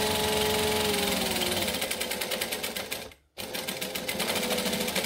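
A sewing machine stitching a Mia Wallet runs forward in rapid, even mechanical clatter, pauses briefly, then resumes with a short burst of back stitching, loud and close.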